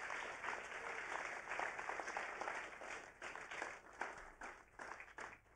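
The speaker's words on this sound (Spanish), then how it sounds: "Let's clap our hands one more time." A Pentecostal church congregation claps along at a bilingual service, continuous faint hand claps forming a dense, even wash, quite distant and soft.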